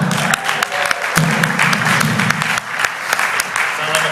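A live audience claps through a comedy monologue, a dense, loud patter of applause that holds steady from start to finish.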